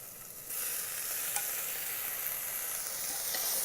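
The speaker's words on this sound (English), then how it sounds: "Fry tomato for 2 minutes." Chopped tomato and onion frying in an Instant Pot for shrimp curry, a quiet sizzle that jumps to a louder, steady hiss as fresh ingredients hit the hot pot, with a faint stirring knock midway.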